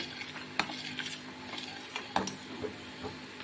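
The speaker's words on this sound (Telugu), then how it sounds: "ఫోర్ టు ఫైవ్ మినిట్స్ ఇలా లో ఫ్లేమ్లోనే మనం దీన్ని తిప్పుకుంటూ ఉండాలి" Dry fruit custard kulfi mixture stirred in a pan on a low flame, soft scraping and occasional clinks of the spoon against the pan, close and quiet, without talk.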